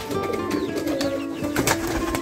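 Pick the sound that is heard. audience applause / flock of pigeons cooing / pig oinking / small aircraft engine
flock of pigeons cooing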